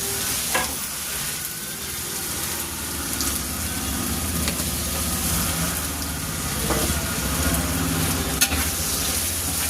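Garlic, about one and a half spoons, frying with onions in oil in a home kitchen pan: a steady broadband sizzle with occasional stirring scrapes and clicks, continuous and moderately close, with no talking.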